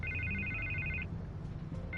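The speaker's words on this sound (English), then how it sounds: "I can't get the phone to stop ringing." A telephone rings in Batman: The Telltale Series, its repeated electronic trill running for about a second, pausing, then starting again over a steady low background hum.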